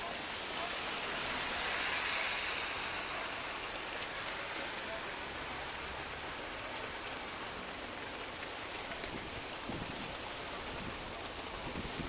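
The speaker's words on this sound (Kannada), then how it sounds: "ಫುಲ್ಲು ಮಳೆ ಐತಿ" Heavy evening rain pours down in Bagalkot, Karnataka, in a steady, dense hiss, with a faint voice now and then beneath the downpour.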